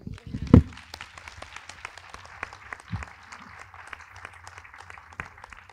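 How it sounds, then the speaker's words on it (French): An audience at a film festival cinema screening bursts into applause, loud at first and then thinning to scattered claps, with voices murmuring underneath. "Et là, on applaudit Quentin."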